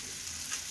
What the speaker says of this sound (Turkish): hamsiyi kızartıyorum